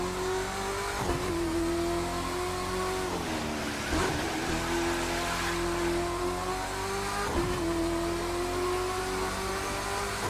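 Corvette C6.R race car engine in the racing game The Crew 2, a sustained loud roar holding a steady high pitch, dipping twice through quick gear shifts and dips around the middle, on a wet track with no talk over it.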